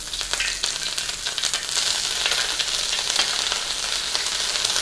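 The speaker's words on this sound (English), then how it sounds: "The oil is hot. Now let's add the ginger pieces." Ginger pieces sizzling in hot oil for a chili crab sauce, a steady close hiss of frying that holds at an even loudness throughout.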